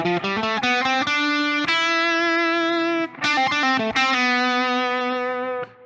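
An electric guitar with a distorted effects tone plays melodic fills between chords, picking quick runs of notes and holding a sustained note over a chord, loud and close with no talking.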